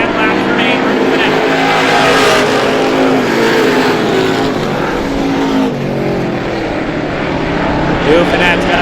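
Stock cars roar around a speedway track during a late-race feature, loud continuous engine drone with rising and falling pitch as cars pass, and an announcer talks over the racing.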